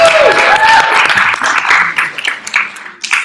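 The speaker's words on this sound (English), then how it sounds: "Let's give a round of applause to our candidates." An audience at a student government presidential and vice presidential debate applauds the candidates, a loud, dense burst of clapping from a crowd with a few distinct claps as it tapers off.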